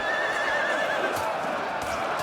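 Dying wargs in a Total War battle let out high, wavering horse-like whinnies over a steady wash of battle noise, with no one speaking.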